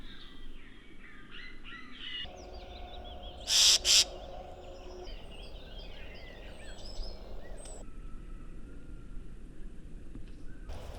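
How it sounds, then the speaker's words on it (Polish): Two short, loud, sharp calls from a young green woodpecker in quick succession stand out over a steady outdoor hum with faint distant birdsong. "Niespodziewanie udaje się podejść blisko młodego dzięcioła zielonego."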